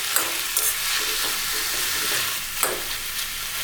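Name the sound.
sautéing tomatoes and coconut in a pan for chutney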